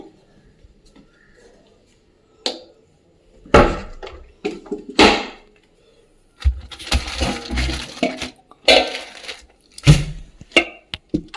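Rice poured into a household rice drum, heard as close, irregular bursts of rattling, rustling grains separated by quiet pauses, growing denser toward the end.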